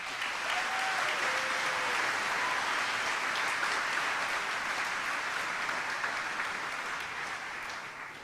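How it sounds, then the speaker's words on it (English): Sustained applause from a graduation audience at a high school commencement ceremony, a dense steady wash of many hands clapping that holds at full strength for about eight seconds before easing slightly at the end. "Let us give all other Dodea students a round of applause"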